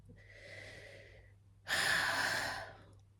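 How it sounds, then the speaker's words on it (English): A person draws two deep breaths, the first a softer inhale and the second a louder, fuller rush of air, close up with no other sounds. "Okay, I'm going to breathe."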